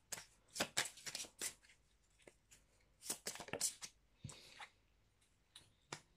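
A deck of healing oracle cards is shuffled by hand. Quiet, close riffling and slapping comes in clustered bursts with short gaps between them.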